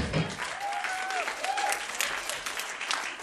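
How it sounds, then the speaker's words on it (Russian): Audience applause at a radio festival awards ceremony, a continuous rush of clapping from a crowd with a faint tonal whistle-like sound mixed in, steady and moderately distant. "смотрите, сорвали какие аплодисменты"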